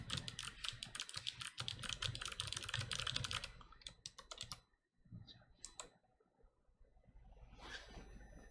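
Rapid, dense typing on a computer keyboard during a JavaScript key-event lesson, loud and close for about four seconds, then thinning to scattered single key presses and a few short bursts, with no talking.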